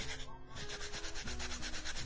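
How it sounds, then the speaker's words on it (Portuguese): Thick sandpaper rubs by hand over a craft piece in rhythmic back-and-forth strokes, a close, gritty scraping that repeats steadily at a quick pace with no talk over it. "E você vai lixando, inclusive em cima do estente"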